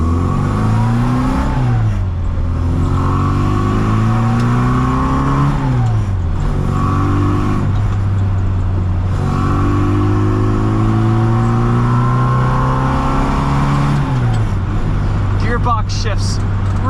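A 1965 Austin Mini Cooper S engine revs and drops through gear changes while driving, a loud, steady drone that rises and falls in pitch with several shifts, with a person talking over it throughout.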